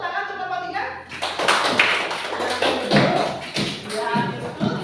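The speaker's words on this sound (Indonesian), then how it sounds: "Tepuk tangan untuk kelompok 3." Classroom students clapping for a presenting group, a burst of many small hands starting after a brief voice and continuing in uneven, close patters with some shuffling.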